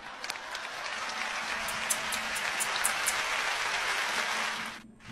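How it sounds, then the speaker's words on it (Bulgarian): Applause from a studio audience at a Bulgarian comedy show, a dense, steady clatter of clapping lasting several seconds before cutting off abruptly. "аплодисмент за Джулиана Гани!"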